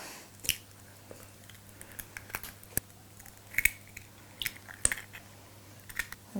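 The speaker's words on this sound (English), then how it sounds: "So we're going to tap in our eggs." Eggs are tapped and cracked into a mixing bowl of dry cake ingredients, a series of sharp, close clicks and small cracks scattered irregularly through quiet.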